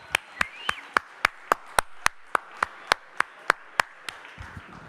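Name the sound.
applause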